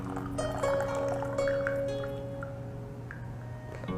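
Phoenix Mountain oolong tea being poured, soft trickling and dripping of liquid with faint clinks of teaware, quiet and close.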